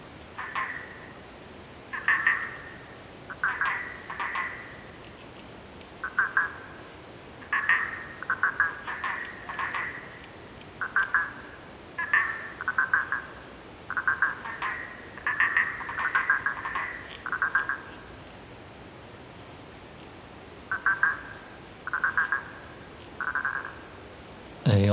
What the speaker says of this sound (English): It was just frogs, just like these 3 or 4 frogs calling out to each other